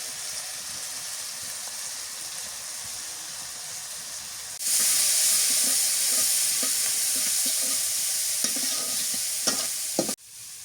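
Fish curry with turmeric cooks in hot oil; a quiet hiss suddenly swells into a loud, bright sizzle that holds for several seconds with stirring knocks, then abruptly drops away near the end.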